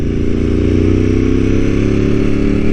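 A Ducati 748R sport motorcycle accelerates hard, its engine roaring loud and close with a rising, pulsing drone that runs unbroken throughout.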